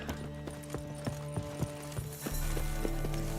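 Horse hooves clip-clop at an even, regular pace in the video game Witcher 3, crisp and close over a low ambient bed, followed by a louder steady background wash.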